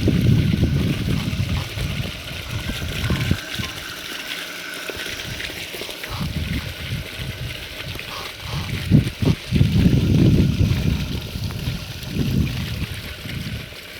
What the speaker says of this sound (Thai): เพราะแดดไม่มีเลยน้ำออกเต็มเต็มท่อเลยนะครับ